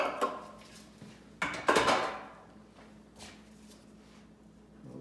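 A spatula scrapes the last of a mushroom, bean and barley burger mixture out of a blender bowl, with a few sharp knocks and clatters against the bowl, fairly close and without talk.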